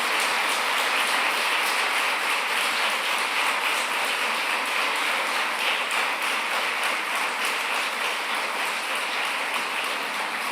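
A lecture audience gives a long, even round of applause after a neuroscience talk, dense continuous clapping like heavy rain that fills the room without a break for about ten seconds.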